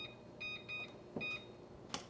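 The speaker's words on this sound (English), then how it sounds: "let me set the timer" A kitchen timer being set gives several short, faint electronic beeps in an irregular pattern, with soft clicks and kitchen handling noise between them.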